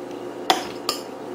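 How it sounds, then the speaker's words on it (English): Two sharp metallic clinks of a kitchen knife being pulled from a cutlery drawer, the first slightly louder, spaced under half a second apart against quiet room tone. "take a knife out of my drawer"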